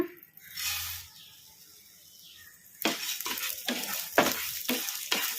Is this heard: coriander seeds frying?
yes